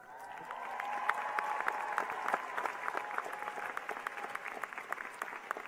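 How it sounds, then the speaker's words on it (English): A steady, dense round of applause fills the room at the UW School of Social Work 2022 graduation, many hands clapping close and evenly with a few faint cheers mixed in. "Big round of applause for you."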